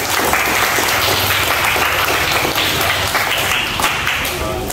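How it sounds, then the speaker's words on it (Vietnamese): Loud, continuous applause from a group celebrating a birthday at a snail restaurant, dense clapping held steady throughout with a faint voice or two beneath it. "Rồi, vỗ tay cho chị Như."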